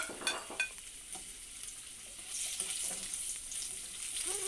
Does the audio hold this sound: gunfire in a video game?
no